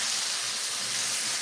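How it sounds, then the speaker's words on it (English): Steady, bright hiss of a tortilla sizzling as it drops into hot beans while making enfrijoladas, a continuous frying crackle held evenly at close range with no break. "See that? Sizzle right there."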